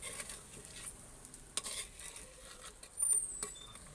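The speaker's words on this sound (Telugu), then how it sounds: "కలుపుకుందాం." Chicken curry with chickpeas being stirred in a pan after two teaspoons of coriander powder go in, giving soft scraping and stirring with a light sizzle throughout, close and fairly quiet, with brief louder scrapes near the middle and end.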